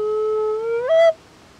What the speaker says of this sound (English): And this effect is called a glissando